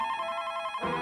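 A telephone rings with a steady electronic trill that holds for about a second, fairly close and clear, with no talking over it.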